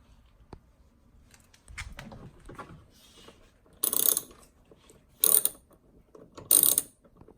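A ratchet wrench loosens bolts on a Ford F-150 rear door panel during a window regulator repair, making three bursts of close, crisp clicking separated by short pauses, with soft handling noises before them.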